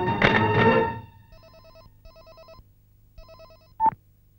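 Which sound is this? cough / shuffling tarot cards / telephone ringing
telephone ringing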